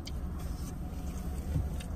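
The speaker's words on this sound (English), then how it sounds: "Look at all these cars though." Cars idle in a drive-thru line, making a low, soft engine rumble nearby with faint background noise and no clear voices.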